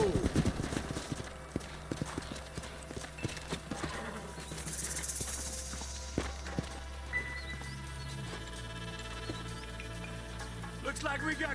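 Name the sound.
horses galloping and clip-clopping in Red Dead Redemption video game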